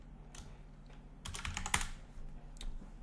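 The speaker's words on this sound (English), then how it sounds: "So when I type in a score," Keystrokes tapping on a computer keyboard while a game's high score is entered, a short burst of close, quiet clicks with a pause between groups.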